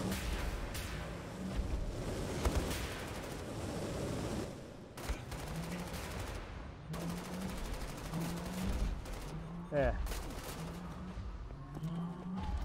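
Gunfire in Wolfenstein: The New Order, with bursts of automatic shots and sharp cracks repeating over a rumbling backdrop of game effects and music.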